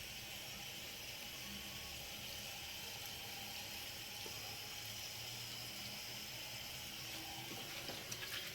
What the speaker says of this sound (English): And I gotta rinse the remnants off of my hands